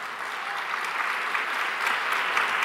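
A congregation claps in praise of God during a Telugu sermon, sustained, even applause from many hands filling the whole stretch without a pause.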